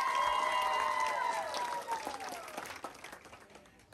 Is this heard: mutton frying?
no